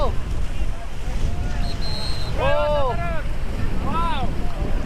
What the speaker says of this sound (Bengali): জোয়ারে চল এই দেখুন কি ঢেউ